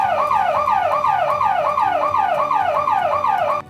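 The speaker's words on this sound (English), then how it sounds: "Warning signals or sirens are generally used before starting a conveyor belt to warn anyone near the system that the conveyor will begin to operate." A conveyor belt warning siren in a mining setting gives a loud, close, rising-and-falling electronic wail that repeats about ten times in even cycles, then cuts off abruptly.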